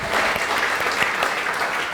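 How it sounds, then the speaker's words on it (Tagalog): A church congregation claps together during a sermon, a brief, loud, even wash of applause close by with no talk over it. "gusto ko marinig ang palakpak mong the best para kay Jesus."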